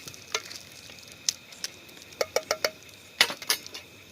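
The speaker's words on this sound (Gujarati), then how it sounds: "એને થોડું હલાવી દઈએ" Whole spices, bay leaves, cinnamon and coriander being stirred in a hot pan for Rajasthani dal, giving a faint sizzle with a series of sharp scraping clicks from the spoon, close and without talk.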